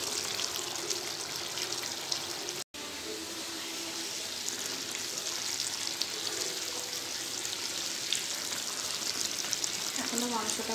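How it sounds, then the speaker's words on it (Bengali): Meat braised with yogurt in a covered pan gives a long, steady bubbling sizzle with faint watery crackles, cut off by one brief gap early on. "এখনো মাংসটা কষাচ্ছি"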